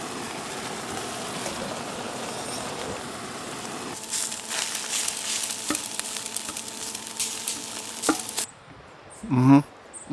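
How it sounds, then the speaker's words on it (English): Beef sizzling in a pan on a camp stove at a backcountry wilderness campsite, a steady frying hiss that turns louder and busier midway with stirring, then cuts off before a brief clatter. "we're gonna fry up the beef in here and then the rice after"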